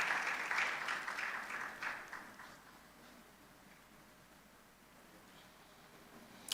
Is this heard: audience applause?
yes